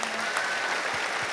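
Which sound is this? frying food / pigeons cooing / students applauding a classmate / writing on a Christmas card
students applauding a classmate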